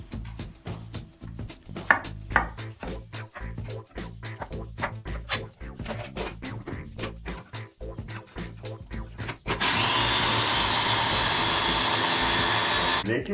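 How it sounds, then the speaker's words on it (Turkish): Soft rhythmic clattering and tapping give way to a loud continuous motor whir as a food processor starts chopping tomatoes, steady to the end. "Domateslerimizi robotta çekeceğiz."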